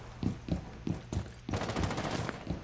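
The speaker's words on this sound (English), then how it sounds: "someone's shooting from this window where I'm marking" Gunfire in a Rainbow Six Siege team deathmatch on the Kafe Dostoyevsky map: several sharp shots at a steady pace, then a louder burst of rapid automatic fire that stays close and fairly loud.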